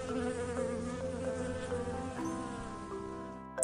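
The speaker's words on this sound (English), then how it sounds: "B. For bee." A bee buzzes in a continuous, close, droning hum for a few seconds, wavering slightly in pitch and with no voices.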